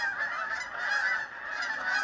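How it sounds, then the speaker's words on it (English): Canada geese fly over in the early morning near an experimental farm in Ottawa, honking in rapid, repeated calls. The honks are fairly close and clear and go on without a break for two seconds. "Every morning we wake up to the geese flying around from the experimental farm"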